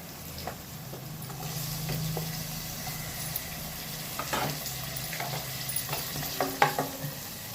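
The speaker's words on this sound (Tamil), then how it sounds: "அது பொரியும் போதே வெங்காயம்," Onions frying in a pan with whole spices (cinnamon, cloves, cardamom) for mushroom biryani: a soft, steady sizzle with intermittent stirring scrapes and small pops, fairly quiet and up close.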